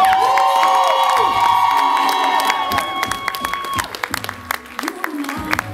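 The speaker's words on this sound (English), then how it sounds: "Can I get a louder hand clap for Nick?" A crowd at an event claps, cheers and whoops loudly, with shrill shouts and a ringing tone over the top early on, then the clapping thins into scattered claps.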